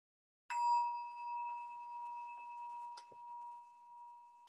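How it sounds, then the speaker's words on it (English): A meditation bell is struck once and rings out with a clear, sustained tone that slowly fades in a quiet room, with a faint knock near the end. "that is the bell"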